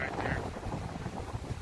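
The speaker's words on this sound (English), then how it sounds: "It might be gusting at 30, looking at the way the wind's blowing right there." Strong gusty wind at 20 to 30 miles an hour in Tulsa buffets the microphone in a steady, broadband roar with low rumbling surges, close and fairly loud throughout.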